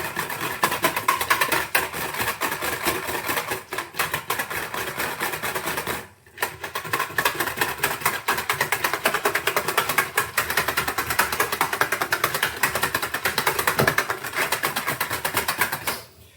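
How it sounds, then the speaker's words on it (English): A commercial mixer runs steadily while mixing pollen patty syrup, a dense mechanical whir with a rapid rattling beat that dips briefly partway through, close and continuous with no talk. "I'm using a commercial mixer"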